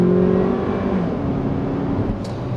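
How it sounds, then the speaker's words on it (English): Engine of a 2017 Kia Sportage SX pulling under acceleration, a steady smooth hum heard from inside the cabin with a low droning tone, moderately loud and continuous. "the engine is relatively smooth. It's quiet."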